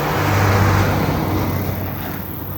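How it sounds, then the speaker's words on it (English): A big truck rumbles past close by, loud and heavy at first, with its deep drone easing off over a couple of seconds. "This is a big truck."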